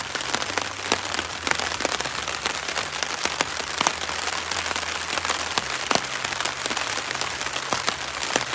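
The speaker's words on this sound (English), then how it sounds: "the end of my hammock is damp from the rain" Rain patters steadily onto a camping hammock on a spring backpacking trip along the West Rim Trail, a dense continuous drumming of drops with occasional louder taps and no talking.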